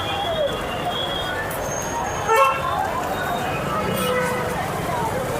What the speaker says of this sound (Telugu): చూడండి, కొంచెం లైట్గానే ఉంది ట్రాఫిక్